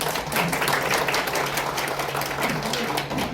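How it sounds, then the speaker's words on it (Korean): Audience applause at a Korean care-program event honoring an oral irrigator inventor, steady dense clapping filling the whole stretch at close, fairly loud level. "우리 다시 한번 박수를 좀 한번."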